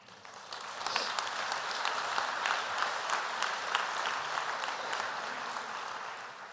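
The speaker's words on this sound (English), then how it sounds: "give yourselves a round of applause" Applause from graduates at an Oregon Executive MBA commencement ceremony, a steady wash of many hands clapping that holds for several seconds, moderately distant and without talk.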